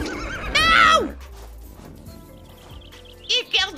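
A horse in a video game gives a loud, shrill whinny early on, followed by quieter game ambience and a couple of short bright sound effects near the end.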